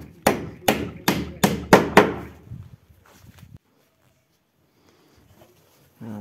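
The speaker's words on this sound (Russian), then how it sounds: "И сюда второй гвоздь через две доски туда в планку." Nails hammered through two boards into a batten while building a sauna changing room: six sharp, evenly spaced hammer blows close by, then quiet handling sounds and a brief later thud, with no talk.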